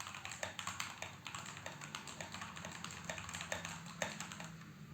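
Typing on a Keychron K8 Pro mechanical keyboard gives a fast, uneven run of crisp key clicks up close, each keystroke a separate sharp tap over a quiet background.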